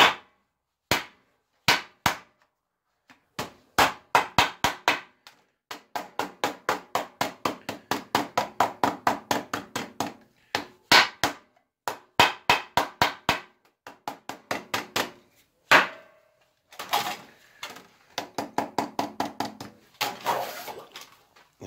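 Hammer (about 400 g) striking tin sheet metal while forming a seam lock for a three-piece duct elbow; sharp metallic blows come singly at first, then in fast rhythmic bursts, close and loud, with no talk.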